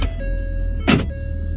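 A Ford F250 6.7 pickup truck engine, with a MAP sensor fault code P0069, hums steadily up close with a droning tone as the truck moves, broken by a brief loud whoosh partway through.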